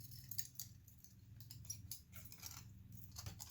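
Scissors snip out a small paper fish scale for a craft, giving a quick run of soft, close clicks and snips at a faint level over a low background hum.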